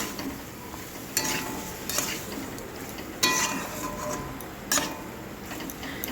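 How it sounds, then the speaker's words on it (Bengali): Ridge gourd pieces are sautéed with spices in a pan for a jhinge aloo posto-style dish: a soft continuous sizzle broken by four sharp spatula scrapes at uneven intervals. "এরপর আমি ঝিঙেগুলো দিয়ে দেবো দিয়ে আবার মশলার সঙ্গে ভালো করে কষিয়ে নেবো"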